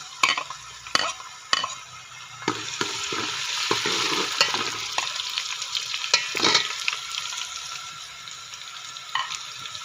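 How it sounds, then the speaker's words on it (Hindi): Onions frying in hot oil for a chicken feet curry, a steady sizzle with sharp stirring clacks and scrapes scattered throughout, close and moderately loud. "ऑयल का कलर चेंज हो चुका है और हमने इसमें प्याज डाल दिए हैं"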